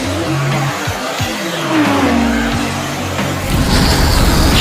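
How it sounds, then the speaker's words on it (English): A cartoon race car engine roars and whines past, its pitch sweeping down as it passes, loud and close with rushing noise and a skid-like squeal. "That isn't Tropical Hit's engine"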